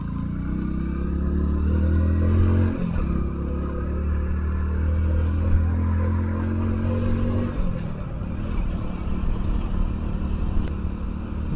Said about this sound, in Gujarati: ગામડાના રસ્તા ઉપર બાઇક ચલાવવાની જ મજા આવે